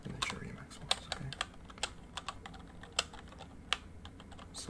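Keys on a colorful mechanical keyboard clack in separate, crisp strikes with a faintly metallic ring. The presses are spaced unevenly and recorded up close over a quiet background.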